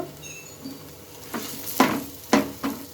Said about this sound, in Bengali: ডাল আলুটা একসঙ্গে ভালো করে মিশিয়ে নেবো